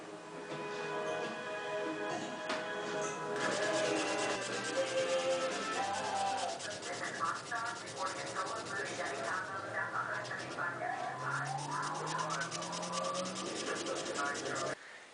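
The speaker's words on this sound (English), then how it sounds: "I'll more than likely have to go back and do a little bit more sanding" A straight razor being sanded by hand during restoration, with continuous rubbing and scraping strokes that run steadily, with some background sound from other audio mixed in.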